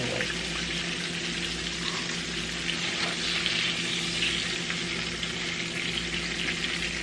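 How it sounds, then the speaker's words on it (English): Oil sizzles and crackles steadily as fish pieces fry in a pan, a constant hissing spatter with no talking. "I'm about to fry the rest of them"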